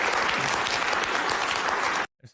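Clapping from a studio audience at a talk show, a dense burst of applause that cuts off abruptly after about two seconds, followed by a brief voice.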